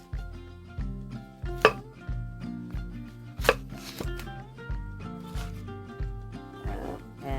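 A knife dicing a medium onion on a cutting board in a home kitchen, a steady run of close, rhythmic chops with brief pauses, over low background music-like tones.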